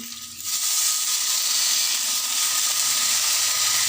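Fresh drumstick (nugge) leaves tipped into a hot pan of moong dal set off a sudden, loud, steady sizzle that stays strong and close, with no talking over it.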